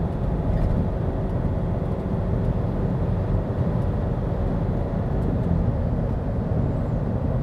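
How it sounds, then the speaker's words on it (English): A Nissan Patrol diesel fitted with aftermarket boost and EGT gauges climbs a hill at full throttle, a steady loud low engine drone with road rumble heard from inside the cabin. "Going up the hill, accelerating from 70 to 80 k's an hour. That is foot flat to the floor."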